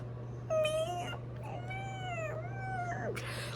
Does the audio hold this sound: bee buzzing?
no